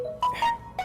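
A phone SMS notification tone chimes at night, a short series of bright electronic beeps in quick succession, fairly clear and alone.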